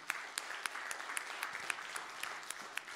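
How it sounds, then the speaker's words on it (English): Audience applause at a talk, a steady wash of clapping hands with sharp individual claps standing out, filling the full stretch without talk. "Can we please give a big clap"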